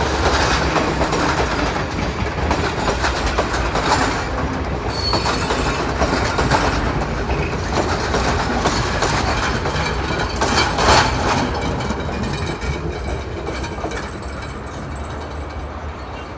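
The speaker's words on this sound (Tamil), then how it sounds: "பேசிக்கிட்டே இருக்கும்போது பின்னாடி ஒரு ட்ரெயின் ஒன்று வருது." A train rumbles past close behind a Sri Lankan beach in the evening, loud and continuous throughout with steady clattering wheels and metallic squeals, no talk over it.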